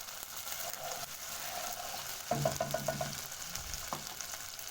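Ginger paste is stirred in a frying pan. A constant low sizzle runs throughout, and partway through a run of quick scraping strokes is followed by a single clink of the spoon.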